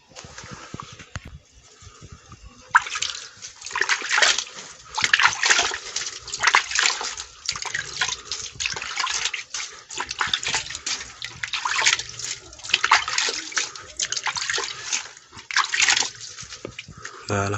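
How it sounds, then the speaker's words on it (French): Water is poured over soil mixed with sheep manure, making uneven splashing and trickling bursts that come and go for several seconds, close by, with no one speaking. "on va arroser avec un peu d'eau"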